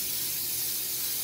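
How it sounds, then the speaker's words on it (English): Cooking spray hissing onto a baking pan in a kitchen while making coconut macaroons, one continuous close, loud spray burst. "I'll have to spray everything just in case"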